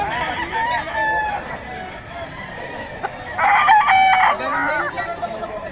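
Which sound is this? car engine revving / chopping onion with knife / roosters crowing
roosters crowing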